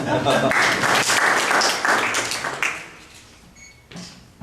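Audience applause at a poetry battle during a festival in Świdnica, with loud, full clapping that fades after about three seconds, leaving a few scattered claps and a faint voice near the end.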